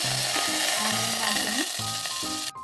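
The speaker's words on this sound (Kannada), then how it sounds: "ಇಲ್ಲಿ ಎಣ್ಣೆ ಹಾಕಿ ಸಾಸಿವೆ ಜೀರಿಗೆ ಹಾಕಿ ಸ್ವಲ್ಪ ಕಡಲೆಬೇಳೆ ಹಾಕಿದ್ದೀನಿ ಇವು ಚಟಪಟ ಅನ್ನಬೇಕು" Mustard seeds, cumin and chana dal crackle in hot oil with a constant close hiss and fine popping, while a tonal melody plays over it before an abrupt cutoff.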